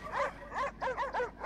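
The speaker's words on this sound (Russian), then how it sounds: "Собаки." Dogs in a video game, husky-type, let out a run of five or six quick, moderately loud barks and yelps at an uneven pace, heard alone.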